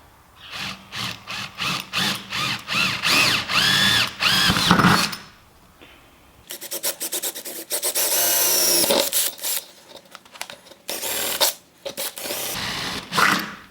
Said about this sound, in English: Drill a little pilot hole.